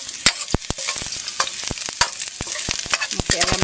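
Food stirred and frying in a pan with onions, steady sizzling crackle broken by sharp scraping and clinking strokes of the utensil at an irregular rhythm, close and fairly loud.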